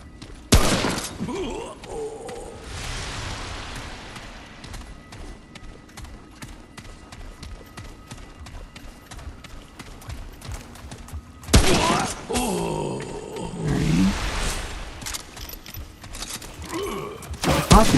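Hunting rifle shots ring out in the video game Remnant: From the Ashes, sharp bursts near the start and again around the twelve-second mark, with mechanical clatter and low rumble between them.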